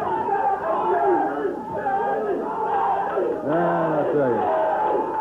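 A 1994 USWA wrestling arena crowd roars and chants loudly and without let-up, filling the hall as a commentator talks over the noise.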